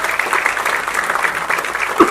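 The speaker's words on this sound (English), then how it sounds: "A big round of applause" An audience at a film trailer launch event with Sachin Tendulkar breaks into steady, dense applause, close and continuous for a couple of seconds.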